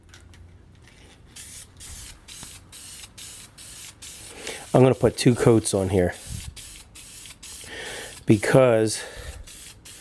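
Aerosol can of flat black vinyl and fabric paint sprayed onto interior door panels of a Dart Swinger 340, giving repeated short hissing bursts at close range, with someone talking over part of it.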